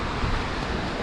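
Cold wind blowing at a river during winter walleye fishing, a loud, steady rush that buffets the microphone throughout the short stretch, with no talk.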